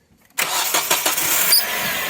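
A 2008 Kia Spectra engine cranks and catches after a short quiet moment, then settles into a steady, loud idle with a faint belt squeal riding on top.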